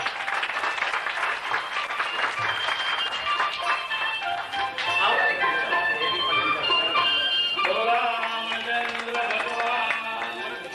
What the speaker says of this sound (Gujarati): ભાઈ દશરથભાઈ માટે હવે તાળી પાડી.